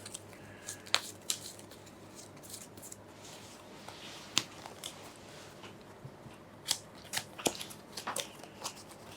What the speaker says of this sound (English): So that's 2 cards, and then shuffle and get 3